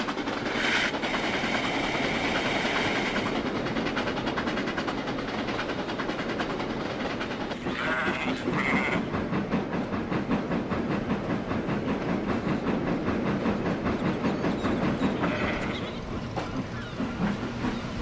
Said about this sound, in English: He arrived near Brendan's warehouse just outside Knapford's yards, where he had to shunt his train into a siding